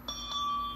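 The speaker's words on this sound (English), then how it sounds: "This is a ship's bell." A single bright metallic ship's bell strike rings out close by, its clear tone sustaining without fading through the brief moment.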